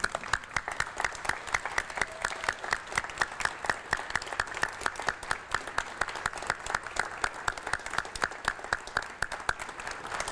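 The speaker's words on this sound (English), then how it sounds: "I would like you to stand and give these good folks a round of applause" An outdoor college honor ceremony audience gives a round of applause, a steady stream of distinct individual claps from a modest crowd, moderately near and continuing evenly throughout.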